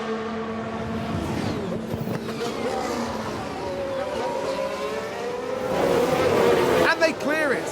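F1 Manager 22 game audio of a McLaren Formula 1 car overtaking, a high engine whine sliding in pitch, with a louder whoosh and pitch sweep near the end as the car passes, under race commentary.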